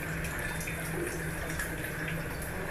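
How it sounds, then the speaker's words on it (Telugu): Water poured into a cooking pot of leafy-green dal with onions, a steady continuous splashing stream at close range throughout, without any talking. "ఇప్పుడు ఇందులో తగినన్ని వాటర్ పోస్తున్నానండి"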